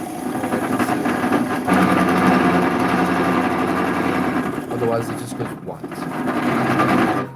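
Workshop lathe running with a heavy, steady vibration that loosens the chuck, a continuous droning hum with rattling overtones, close and fairly loud, with a person talking over it.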